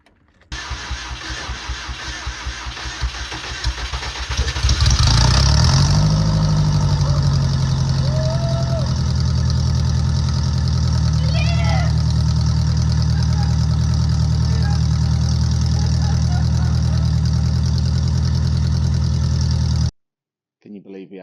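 An old VW camper van engine cranks for several seconds, then catches and settles into a loud, steady idle nearby, with voices talking over it before a sudden cut.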